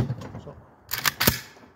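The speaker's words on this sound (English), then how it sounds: "Let me dry fire this a couple of times because I don't remember what this trigger feels like." Dry firing an AK Veper rifle: a soft mechanical handling sound, then two or three sharp, close metallic clicks of the trigger and action in quick succession.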